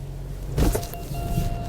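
A 2023 Mahindra Scorpio SUV works through boggy mud, its engine humming low and steady while the underside scrubs, with a brief louder burst of scraping and splashing midway.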